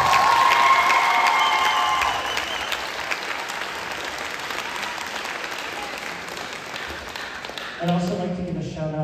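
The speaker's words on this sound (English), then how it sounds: "I'm going to give a big round of applause to" Sustained applause from a large concert audience at a school pops concert of senior solos, dense and steady for most of the stretch before fading, with a voice and brief tones entering near the end.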